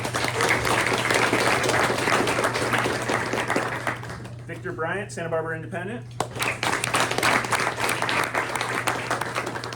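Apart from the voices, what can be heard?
luncheon audience applauding local media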